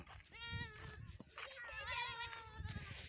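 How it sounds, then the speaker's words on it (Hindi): A goat bleats with a wavering, nasal cry, heard twice in quick succession, fairly close and mid-loud, while children's voices and talk carry on around it. "हे बकरी हे कंहिंजी आहे"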